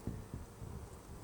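Honey bees hum softly around an open hive, a faint, steady buzz with a couple of low thumps near the start, heard alone without talk.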